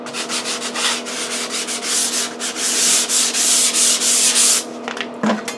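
Close, rhythmic scratchy rubbing of sandpaper over drywall joint compound on a patched wall, strokes repeating steadily before stopping near the end.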